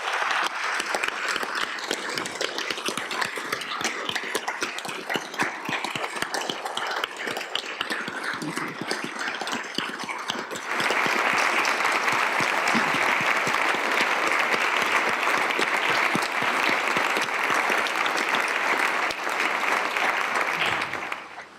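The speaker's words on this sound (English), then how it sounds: "Please give them a round of applause and thank them for keeping us safe." Sustained applause from a large audience at the South Dakota State of the State 2025 address, with dense, steady clapping throughout that swells louder in the second half and cuts off abruptly at the end.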